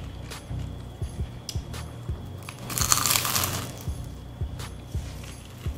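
Crunchy fig, prosciutto and arugula pizza being bitten and chewed close up, a series of crisp crunches at a steady rhythm with a louder rustling burst midway.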